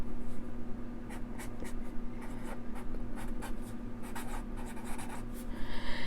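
A pen drawing a star in a bullet journal, a rapid run of short scratchy strokes on paper, close and steady with brief pauses between lines.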